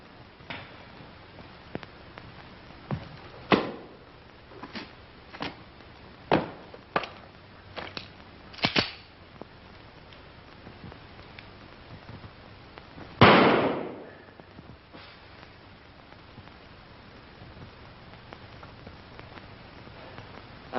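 Gunshots ring out in a 1942 classic army comedy, a series of sharp single reports spaced irregularly over the first nine seconds, followed by a louder, longer blast, then quiet.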